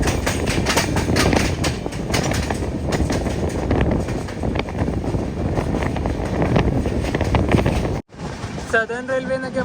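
The Aronai Express runs on the rails with a loud, steady rumble and wind-blown roar close by for about eight seconds, then a sudden cut to quieter, different sounds at the end.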